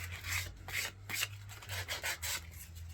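Hand sanding the edges of a wooden board with 120-grit sandpaper, a close series of quick rasping strokes in an uneven back-and-forth rhythm over a low background hum.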